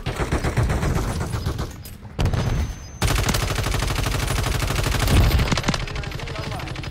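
Rapid automatic gunfire from the video game Modern Warfare 3, loud close bursts of quick repeated shots with a short pause in the middle, continuing densely to the end.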